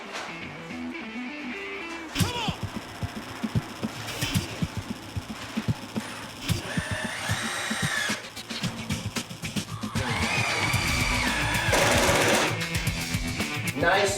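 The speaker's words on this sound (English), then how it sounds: "You want to have a nice high-power drill, hopefully cordless." A cordless high-power drill drives screws into a double-hung window frame in short, repeated whirring bursts, with light bumps and handling noise between runs.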